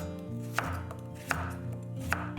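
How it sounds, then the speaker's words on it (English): Three sharp knife chops cut through yellow potatoes on a cutting board, spaced evenly about every three-quarters of a second, with a steady background hum between strikes. "Chop the yellow potatoes"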